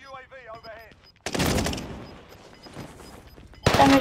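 Gunfire in the video game Warzone Pacific: a brief voice gives way to a loud, sustained burst of shots, which thins out and then returns as another sharp, loud burst at the end.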